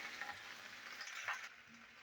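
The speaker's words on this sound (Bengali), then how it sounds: "ঢ্যাঁড়সগুলো একটু ভেজে নেবো।" Okra sizzles in a pan with a soft, even frying hiss and one brief crackle near the end, heard up close and fairly quiet.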